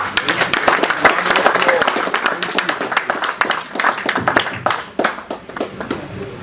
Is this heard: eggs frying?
no